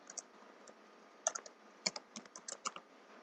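A computer keyboard clatters with a handful of faint, scattered keystrokes, a few quick clusters of clicks spaced irregularly over a quiet background with no voice.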